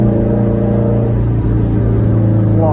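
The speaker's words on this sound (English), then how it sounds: "Let's hit that downshift real quick." Loud, steady drone of a car engine during a downshift, holding one pitch with a brief rise in revs near the end, heard close up from inside the car.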